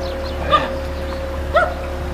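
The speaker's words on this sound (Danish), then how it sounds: "jeg kan høre, at hunden den gør stadigvæk" Two distant dog barks, about a second apart, sound faintly over a steady low engine hum on a boat trip in France.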